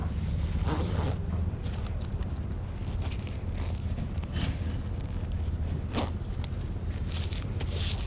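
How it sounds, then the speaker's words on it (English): A marine-grade YKK Vislon zip on an overland 4x4 awning bag being run along its track, a continuous close raspy zipping with a few sharper bursts, heard alone. "we use YKK Vislon zips, marine grade, to make it easy with no issues of zips getting stuck"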